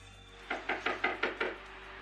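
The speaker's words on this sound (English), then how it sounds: "2 Mexican police officers are knocking at his door." Six quick, evenly spaced knocks land on a motel room door, close and sharp against a quiet background hum, with no voices.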